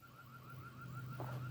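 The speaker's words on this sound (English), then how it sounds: "Y'all can hear my alarm in the background." Background alarm beeping in a garden, a faint repeated electronic chirp pulsing steadily several times per second under a low hum.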